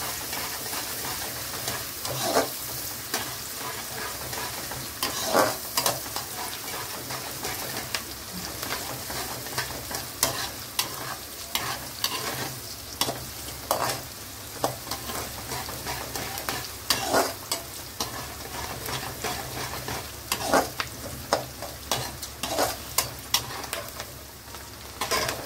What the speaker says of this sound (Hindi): थोड़ा सा इसको ब्राउन होने तक इसको भूनेंगे।